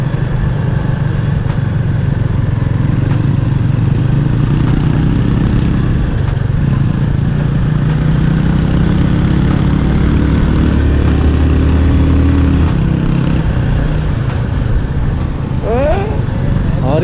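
Several motorbikes ride together on a road near Kathmandu, their engines making a steady, loud, close droning hum throughout, with voices talking over it.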